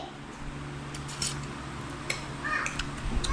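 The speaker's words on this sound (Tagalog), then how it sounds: "May ibon." A few short, sharp bird calls ring out over steady outdoor background noise, faint to moderate and spaced irregularly.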